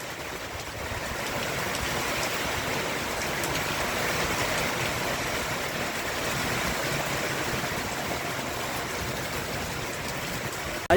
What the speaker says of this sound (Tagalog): malakas na po yung ulan.